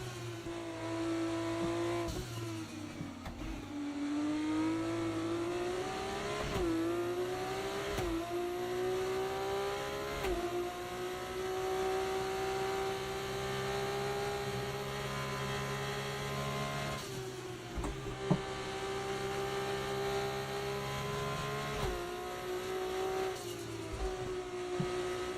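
A racing video game car engine whines and climbs through gear changes, dropping sharply at each shift and rising again as the car laps a track, with occasional tire noise, steady and continuous throughout.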